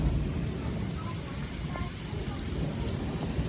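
Heavy rain falls steadily outdoors as a dense, even hiss and patter, with low rumbling wind noise underneath and no distinct breaks.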